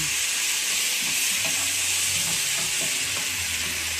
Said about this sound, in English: This is what my pan looks like so far. I'll give it a stir.